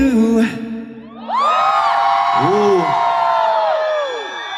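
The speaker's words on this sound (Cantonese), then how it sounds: "多謝多謝大家咁熱烈嘅掌聲同埋歡呼聲" Audience cheering at a concert during a thousand-guest college anniversary banquet: high excited screams and whoops swell after a brief lull and carry on loudly, close and dense.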